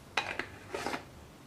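A closed jar of vegetable preserves with olive oil, salt and sugar inside is shaken, giving two short bursts of clinking, rattling glass, close and fairly quiet.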